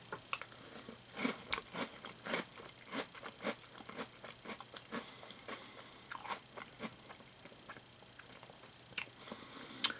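Crunchy General Mills Caramel Crunch cereal, a Batman v Superman edition, gets chewed close to the mic in irregular crisp bites and crunches over about ten seconds, with no talking.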